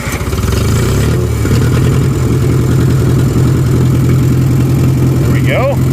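A John Deere 1010 crawler bulldozer engine, run with a little choke, catches and settles into a loud, steady close-up idle with a strong low rhythmic throb; a voice speaks briefly over it.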